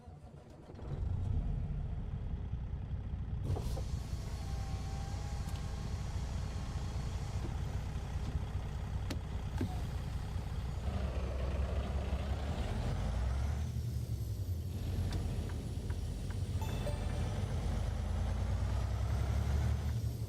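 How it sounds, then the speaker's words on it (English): In American Truck Simulator, a StarCar 49X logging truck with an X15 engine starts up and settles into a deep, steady idle. Its rumble runs close and continuous for the whole stretch, with air-brake hisses and no voices. "let's go ahead and climb in the truck, get her fired up, and let's do some logging."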